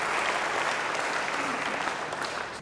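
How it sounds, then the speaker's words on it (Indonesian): A church congregation in an Indonesian-language worship service breaks into full, loud applause, a thick continuous roar of many hands that stays strong before easing slightly at the end, with no speech over it. "Beri tepuk tangan yang baik bagi dia."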